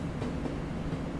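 A Gatwick Express train passing on the Brighton Main Line in the Train Sim World 5 game, a short steady rumble of wheels and motors with faint rhythmic clicks, no talk.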